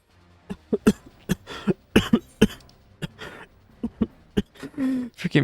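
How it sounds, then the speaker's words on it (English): A character in the video game Final Fantasy XIV: Endwalker coughs repeatedly in harsh, close bursts, a fit of short hacking coughs with brief pauses and a throaty rasp near the end. "Forgive me, sir, the coughing."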